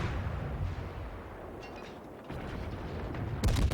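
Naval gunfire during a World of Warships battle: a dense, rumbling barrage of distant booms runs throughout, easing briefly in the middle before a louder, sharper burst of shots at the end.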